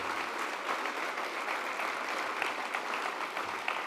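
A crowd applauds Josh and Sarah at an alumni awards night, steady dense clapping held evenly throughout at moderate distance.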